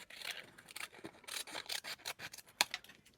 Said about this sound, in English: All right, let's trim around this one.